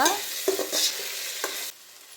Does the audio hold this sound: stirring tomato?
yes